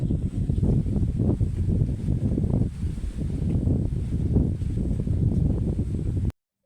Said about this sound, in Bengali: রিয়েল সাউন্ডটা দিয়ে দেই, তাহলেই বুঝতে পারবেন এখানে কত পরিমাণ বাতাস হচ্ছিল